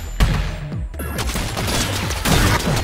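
Rapid volleys of gunfire from halo shots in the video game Rounds, loud layered bursts with descending zap-like tails, continuous and dense throughout.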